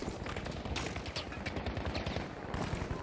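Gunfire in a video game comes as rapid, dense automatic bursts that run almost without a break, loud and close, over a low rumble, with no talking.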